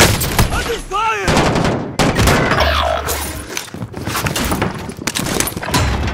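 Bursts of video game gunfire crackle through a firefight, with sharp shots at the start and a volley of cracks near the end, mixed under shouted voices and other game sounds.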